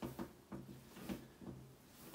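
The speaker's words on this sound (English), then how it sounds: "sorry about the squeaky table" A wooden table squeaks in a steady rhythm while bread dough is kneaded by hand, with about five faint, regular creaks and thumps a little under half a second apart, quiet and close.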